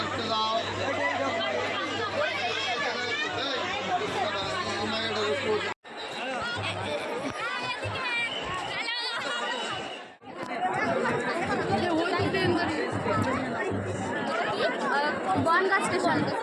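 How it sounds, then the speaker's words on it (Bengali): Dense crowd chatter fills a packed Ranaghat–Bangaon local train, many overlapping voices forming a steady babble with a low rumble beneath, briefly dipping twice before resuming. "আর এদিকে ট্রেনে কিন্তু প্রচণ্ড ভিড় ছিল"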